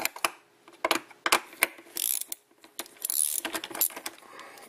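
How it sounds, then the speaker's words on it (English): A ratchet works loose the bolts on the big plastic engine cover of a 2009 Hyundai Santa Fe, giving bursts of quick metallic clicking with short pauses and light clinks, close and clear with no talking. "loosen and remove all 6 bolts"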